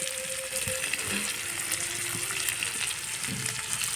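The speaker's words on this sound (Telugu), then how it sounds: "ఇలా కట్టెల మీద చేసుకుంటే చాలా టేస్ట్ వస్తుంది అన్నమాట ఫిష్ ఫ్రై" Fish fry cooking on a pan over a wood fire, with steady dense sizzling and spitting oil running throughout, close and continuous with faint crackles and no talk.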